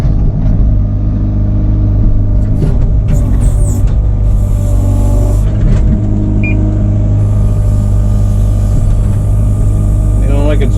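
An excavator engine hums close and steady, a low droning rumble that persists while cut trees are carried, with scattered clanks and a voice talking over it.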